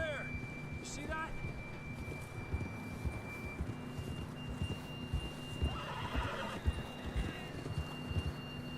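A horse in the video game Red Dead Redemption 2 whinnies with a rising, shrill call near the start, over steady hoof clip-clop and a low background hum, with another neigh later.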